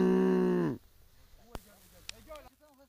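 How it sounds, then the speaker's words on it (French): A cow gives one loud, drawn-out moo right at the start, then it breaks off into a quiet outdoor scene after a group has left a restaurant, with a few short chirps and faint sounds. "Mais si, c'est une vache."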